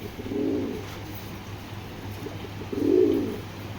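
Pigeons of a Pakistani Giribaz flying breed coo in two low, throaty bursts, one near the start and a louder one near the end, over a steady background hum.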